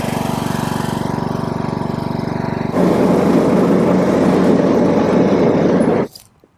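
A 2011 John Deere D100 riding lawn mower engine runs steadily at a loud, close idle, then revs up to a rougher, fuller roar before cutting off abruptly near the end.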